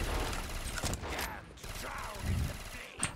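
Gunfire from weapons in Black Ops 3, fired on a custom tower zombies map, comes through as several close, loud bursts mixed with mechanical clatter, with a continuous game soundscape underneath.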